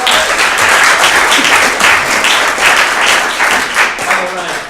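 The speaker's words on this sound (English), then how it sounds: "Give a round of applause." Audience applause at a live comedy show, dense continuous clapping filling the room at high volume for several seconds and easing slightly at the end.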